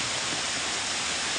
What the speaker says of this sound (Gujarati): જો મારા મુંબઈની નદી હાલે છે અત્યારે